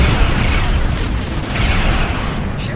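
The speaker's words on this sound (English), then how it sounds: "Ship explosions cause damage." A starship explodes in the space combat game Star Trek Online, giving a loud, dense rumbling blast that roars and hisses with no break and then fades a little.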